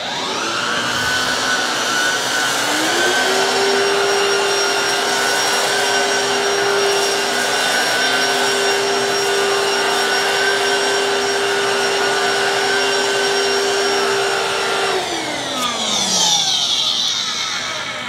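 A Black+Decker PowerSeries 16v cordless vacuum cleaner picks up pet hair, a loud steady whine that ramps up, holds for about twelve seconds, then winds down near the end, close and without talk.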